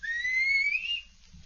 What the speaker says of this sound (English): He always answers when I whistle to him.